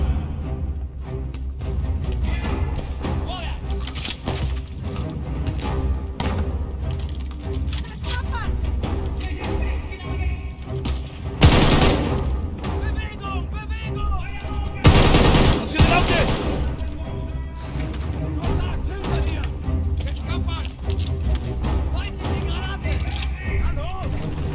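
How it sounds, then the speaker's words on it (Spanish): Sustained machine gun fire in the video game Call of Duty: Vanguard, rapid bursts over a dense battle din with loud blasts near the middle, while soldiers shout over the shooting. "¡La ametralladora!"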